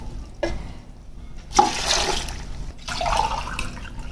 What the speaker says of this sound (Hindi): अब ये देखिए ये इस पे मैं ये पानी शामिल करूंगा